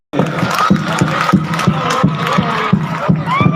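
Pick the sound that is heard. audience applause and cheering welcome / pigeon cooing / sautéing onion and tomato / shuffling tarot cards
audience applause and cheering welcome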